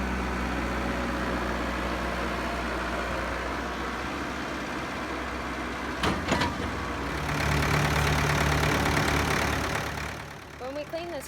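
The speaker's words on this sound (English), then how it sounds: "now he's bringing the tractor and feeder wagon onto the concrete where he can load it" A tractor with a feeder wagon attached idles on a concrete yard, a steady low engine rumble running throughout that swells slightly louder near the end, with brief knocks around the middle.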